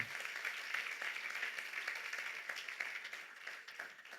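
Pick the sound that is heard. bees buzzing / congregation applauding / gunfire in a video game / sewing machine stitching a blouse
congregation applauding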